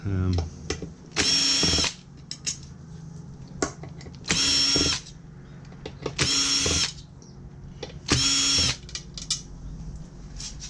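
Power driver backing Torx screws out of a remote radio unit during a teardown, four distinct whirring bursts of about half a second each with short gaps, close and clear, with quiet handling noises between them.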